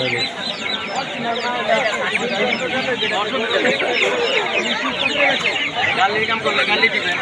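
Chickens clucking and squawking in a crowded weekly poultry market in Sonargaon, Narayanganj, a dense continuous chorus of birds mixed with constant background chatter of traders and buyers.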